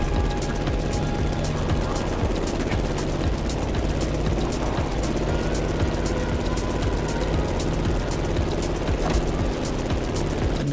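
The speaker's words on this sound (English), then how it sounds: "You've got to steer the plane all the way to the right." A plane engine roars steadily in The Crew Motorfest racing game during a sharp banking turn, a loud continuous drone with a rhythmic pulsing edge that holds without a break, with faint talk underneath.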